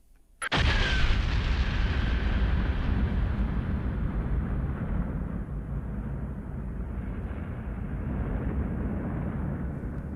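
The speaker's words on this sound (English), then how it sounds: "Space itself exploded in a burst of radiant energy." A sudden explosion sound effect for a Big Bang animation hits sharply after a brief silence, then rolls on as a long, loud, roaring rumble that slowly thins out over several seconds, with no voices.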